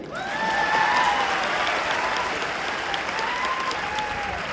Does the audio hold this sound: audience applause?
yes